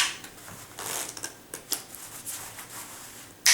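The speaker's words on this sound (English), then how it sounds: "You can give a false shuffle" A false shuffle with a Belly Stripper trick deck of playing cards: a run of soft, irregular papery riffles and flicks, close and fairly quiet, ending in a sharper snap of cards.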